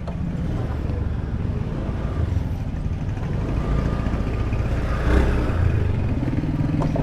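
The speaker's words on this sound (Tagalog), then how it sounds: "Diba lumalagotok yung ating motor." A motorcycle engine runs steadily nearby with a rough clattering, knocking undertone that continues throughout at moderate loudness.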